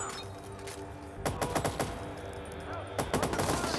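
Rapid bursts of automatic gunfire from the Watch Dogs Bad Blood game crackle in sharp clusters, a steady stretch followed by a second volley near the end, with a faint background hum.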